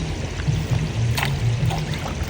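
Water pours and trickles steadily during a heavy rainstorm while fish are being caught, a close, continuous flowing sound with a low rumbling hum underneath.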